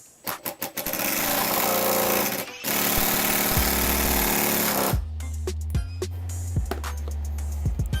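A Makita impact driver drives a fat screw held in a vise. A few short bursts open into a loud, continuous rattling hammer that pauses briefly, resumes, and ends in a few separate impacts, close and harsh.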